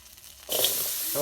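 Potatoes drop into a hot kadhai on a wood-fired chulha for sabudana khichdi, setting off a sudden loud hiss and sizzle that holds steady for under a second after a quiet start.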